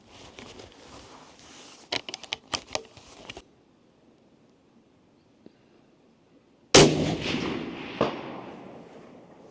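A scoped rifle fires a single loud shot toward a 300 metre target at a shooting range, a sharp blast followed by a lingering decay, after earlier scattered cracks and a quiet pause.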